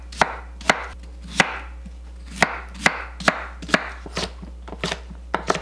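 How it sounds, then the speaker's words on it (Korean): A cored pear being sliced with a knife on a board, a series of crisp, sharp knife knocks at an irregular, moderately quick pace, close and distinct, with no voices. "배 1개를 심지 제거하고 썰어주세요."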